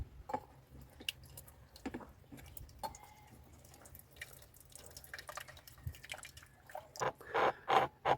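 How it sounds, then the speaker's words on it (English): Hot distilled water poured into a beaker holding 98% sulfuric acid, heard as scattered drips, splashes and wet squishy sounds that build into louder bursts of pouring liquid near the end, close and fairly quiet overall. "And we pour hot distilled water."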